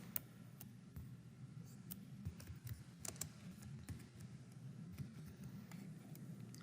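Fingers tap a computer keyboard in quick, soft, irregular keystrokes at close range, steady and faint throughout with no talk.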